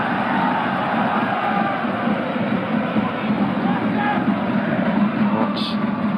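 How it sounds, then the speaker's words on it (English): Home supporters at an Ajax versus FC Utrecht football match roar and shout together, appealing for a free kick, a loud, sustained stadium crowd noise that stays dense and even from start to finish. "Crowd, home supporters appealing for a free kick."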